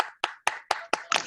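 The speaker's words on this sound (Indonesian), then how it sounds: "Tepuk tangan buat kalian semua pada malam hari ini." Clapping at a youth church service, five or six sharp, close claps in a slow even rhythm, the last one looser and ragged, with silence between.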